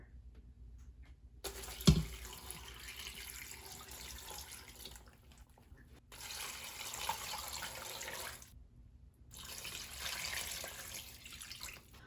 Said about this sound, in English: all I'm gonna do to get this going is add 3 quarts of water